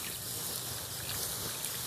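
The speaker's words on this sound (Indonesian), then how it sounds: "Ini lubangnya kita siram dulu." Water poured into the hole over large, burning rice husk charcoal embers makes a steady close hiss and trickle with a broad noisy wash and no clear pauses.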